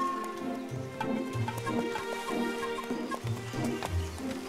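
Soft, uneven clip-clop of a limping horse's hooves in a Yakari cartoon, plodding in a broken rhythm at moderate distance over a quiet background.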